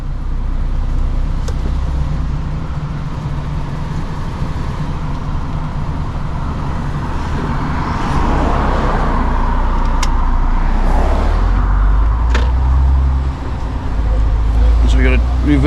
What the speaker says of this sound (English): You can bring the lorry down.